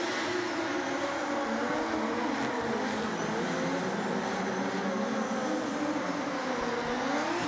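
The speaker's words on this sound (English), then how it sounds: "So as they warm their tires" Drift cars idling and revving as they warm their tires before an all-Polish battle for third place at a DMEC drift event, a steady, loud, dense engine roar that stays constant throughout, with no voices.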